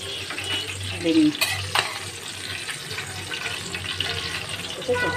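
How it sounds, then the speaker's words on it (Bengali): Small fresh fish frying in hot oil in a pan, a continuous close sizzling hiss with occasional sharper crackles and a few brief utensil touches. "বেশি ভাজলে মাছগুলো পুরো চিংড়া হয়ে যায়, আর যেহেতু জ্যান্ত মাছ সেজন্য খুব বেশি না ভাজলেও হবে"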